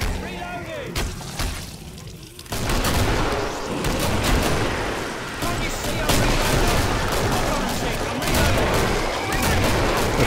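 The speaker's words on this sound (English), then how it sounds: "Here comes the flashbang." Dense gunfire and bursts of shooting fill a competitive video game match, with a flashbang going off amid sustained, loud, overlapping shots and a voice commentating over the action.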